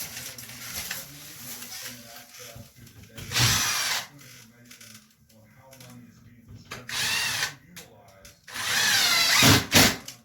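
A power drill tightening drywall screws that had not set fully, during removal of an acoustic ceiling: three short, close whirring bursts separated by pauses, with some quiet talk and handling noise between them.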